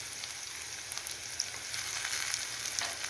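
Chopped tomatoes sautéing in a pan for Chettinad vathakulambu give a steady close sizzle with soft crackling pops scattered across it, alone without any talk.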